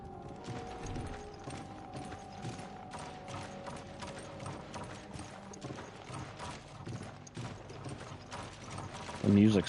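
A crank mechanism in the game Resident Evil: Lost in Nightmares turns with a steady run of quiet ratcheting clicks and gear ticks, fairly faint throughout and rising in a louder knock at the very end.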